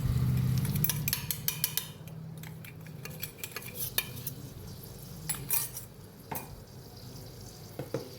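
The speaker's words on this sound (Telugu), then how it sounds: "పచ్చివాసన పోయేంత వరకు తిప్పుకుందామండి" Fish pickle with fenugreek and mustard powder being stirred in a pan, a spoon scraping and clinking against the metal in quick irregular strokes over a low steady background hum, close and clear with no talking.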